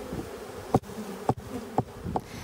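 Bees buzzing around hives being set into wooden bee houses, a steady low drone with several sharp clicks or knocks spaced through it, no voices.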